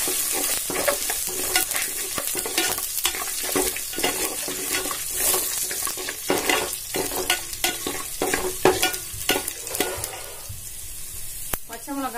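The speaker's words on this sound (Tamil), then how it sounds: "இஞ்சி பூண்டு போட்டு நல்லா வதக்கிட்டாங்க." Ginger and garlic sautéing in a pan for rava upma, a steady sizzle broken by repeated scraping stir strokes that continue for the length of the clip, close and moderately loud with no talking.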